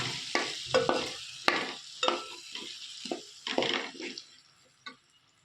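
Asafoetida and masala powder fry in hot oil in a pan, with a soft sizzle broken by repeated scraping stirs at an uneven pace, close and fairly quiet, with no talking.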